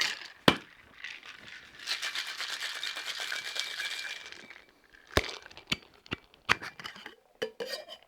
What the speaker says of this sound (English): I'll add some ice and give it a shake.